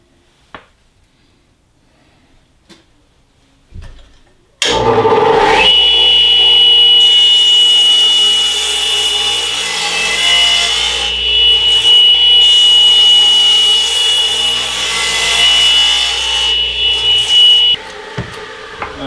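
A power saw cuts wooden legs for a low planer cart, starting abruptly after a few quiet taps and running as a loud, sustained whine with a high steady tone for about thirteen seconds before winding down.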